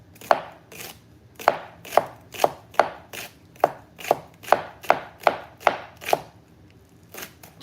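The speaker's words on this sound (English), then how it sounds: "Trying to chop it super thin" A knife chops an onion thinly on a cutting board, about a dozen crisp, evenly spaced strokes close by and distinct, with no talking.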